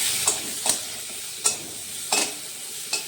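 Chopped onions frying in a pan for a Bengali carp fish curry, a steady soft sizzle broken by five sharp scraping stirs of the spatula, close and quiet with no talk.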